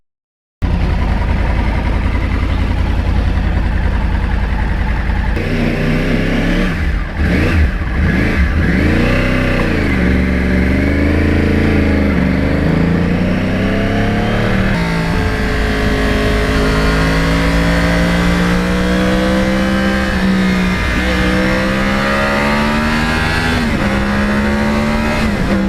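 A 2009 Yamaha R1 crossplane sport motorcycle engine idles loudly close up, then revs repeatedly with rising and falling pitch before pulling away and accelerating through gears.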